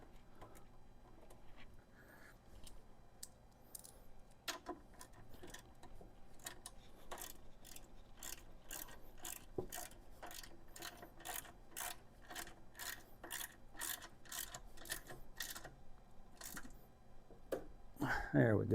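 Screwing down a part while assembling the front wheel, fender and brake calipers on a Honda GL1500 Goldwing: a long run of close, sharp metallic clicks like a ratcheting tool, speeding into a steady rhythm, with a brief louder knock at the end.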